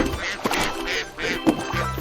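A cartoon duck quacks in a few short, bright bursts spaced across the moment, close and clear, with light voiced squawks between them.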